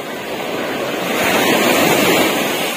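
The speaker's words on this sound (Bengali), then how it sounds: "দেখুন কি ওয়েভ এই মিরিশা বিচে, প্রচন্ড ওয়েভ।" Strong, powerful ocean waves crash and surge at Mirissa beach, Sri Lanka, a loud continuous broadband roar of surf that swells slightly midway, with wind buffeting the microphone and no voices.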